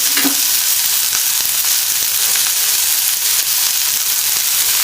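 Mutton pepper fry sizzling in a pan with salt, garam masala and chilli powder, giving a loud, continuous frying hiss with faint stirring and no voices.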